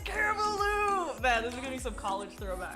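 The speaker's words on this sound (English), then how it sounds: "hey, there's the cat!" A pet cat being babysat gives several short, sliding meows close by, mixed in with a person talking over and between the calls.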